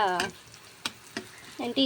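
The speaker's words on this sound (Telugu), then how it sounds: "ఇప్పుడు అదే ఆయిల్లో ఇందాక చెప్పిన పేస్ట్లు వేసేసి కొంచెం పోపు పెట్టేసుకుని కొంచెం ఫ్రై అవ్వాలండి" Oil sizzles steadily as onion and tomato purée paste fries in a pan, with a few brief clatters and a voice speaking briefly at the start and end.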